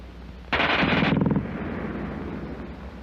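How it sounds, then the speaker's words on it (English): A German MG34 or MG42 machine gun from World War II fires one extremely rapid burst of under a second, a harsh ripping roar over a hissy, old-film background that continues after the firing stops. "the German gun fires faster than anything you've run into before"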